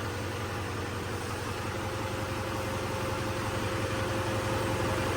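A steady, low tractor engine idles continuously and close by, a constant rumble with no breaks and no voices.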